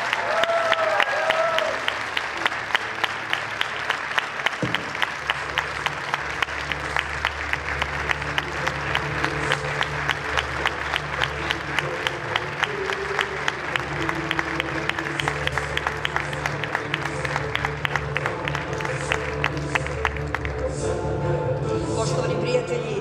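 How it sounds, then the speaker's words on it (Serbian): Sustained loud audience applause at an award ceremony, the first Serbian Oscar, dense steady clapping filling the hall for over twenty seconds with a faint voice near the start. "veliki aplauz, molim vas."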